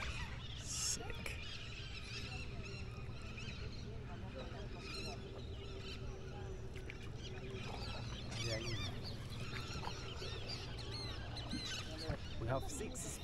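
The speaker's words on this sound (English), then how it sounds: "We've just been watching the parrots for the last like half an hour" Harsh, squawking calls of macaws ring out repeatedly over a steady ambient background in the Peruvian Amazon, with people talking quietly nearby.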